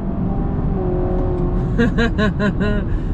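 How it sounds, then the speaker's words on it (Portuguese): Honda Civic Touring 2.0 hybrid accelerating flat out from 110 km/h, its engine note climbing in a series of rising pulses over steady road and wind roar. "retomada de 110, tá? Pé no fundo. Tem um pouquinho de lag"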